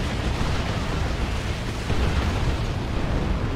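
Tank Buster rocket barrage in the Warhammer 40k game Dawn of War 2, a dense, continuous roar of overlapping explosions with deep rumbling booms, loud and unbroken for the whole stretch.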